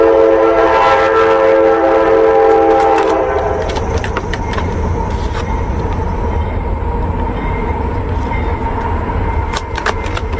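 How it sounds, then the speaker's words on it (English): Train passing nearby, a loud horn blast at first, then a sustained rumble and rattle of rolling cars continuing steadily. "There goes that train."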